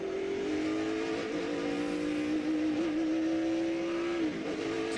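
NASCAR Busch Series race cars at the 2006 Bashas' Supermarkets 200 in Phoenix, a continuous engine drone with a steady, slightly wavering pitch that drops near the end, heard at a distance without talk.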